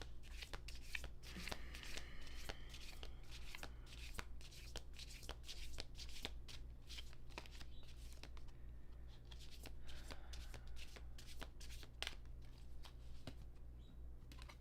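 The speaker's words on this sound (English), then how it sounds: "Let's pull a few cards and see what comes out based on that." Tarot cards are shuffled continuously in a quiet room, a dense, crisp riffling and flicking with repeated sharp card snaps, steady and fairly faint over a low background hum.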